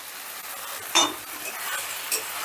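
Ground tomato paste sautéing with spice masala in a pan for Bengali katla fish kalia: a soft, low sizzle with a couple of distinct utensil clinks and scrapes, close by, no talking.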